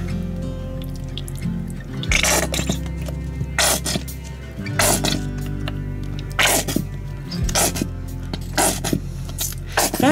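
Water shaken inside a nearly empty ketchup bottle gives a series of rhythmic sloshing bursts, close and fairly loud, repeating every second or so over a steady low hum.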